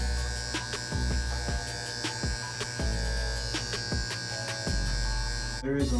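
Electric hair clippers hum steadily through a semi-freeform dreadlock haircut, set to a zero guard with the lever closed for detail work, with recurring clicks and brief contact strokes, a quick louder burst near the end.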